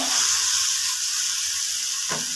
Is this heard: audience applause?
no